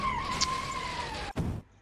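A jet-powered car in a racing video game skids sideways with a steady high engine whine and tire noise, then cuts off abruptly before a brief final rumble.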